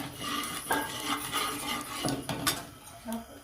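Mustard seeds splutter and pop in hot oil during tempering with a pinch of turmeric for a hibiscus flower palya, giving soft, scattered crackles and ticks at close range with no talking.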